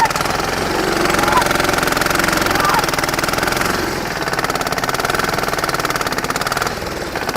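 A tractor engine labours under heavy load during a tug-of-war contest against a group of people, a loud, steady chugging drone with rhythmic knocking that runs throughout, dipping slightly midway, with voices shouting over it.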